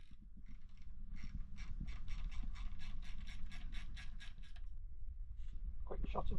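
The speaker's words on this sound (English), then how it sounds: "So we'll start by removing top hose and this heater hose from the other side" A hand ratchet clicks in a quick, steady run of bursts while hoses are being removed from the thermostat housing of a classic Mini Cooper, close up, over low workshop rumble.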